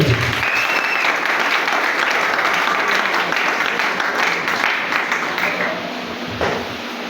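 A church congregation applauds steadily and densely throughout, a broad wash of many clapping hands with crowd noise and faint voices, easing slightly toward the end.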